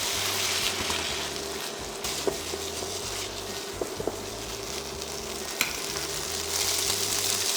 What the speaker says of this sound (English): You can add a few tablespoons of the spaghetti boiling water into the pan.